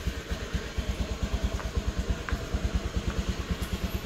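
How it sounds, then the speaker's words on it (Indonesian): A Honda Beat FI scooter engine idles, a steady quick even putter that stays low and close with no revving, no voice. "biarkan ya motor ini hidup ya sekitar 1 menit lah"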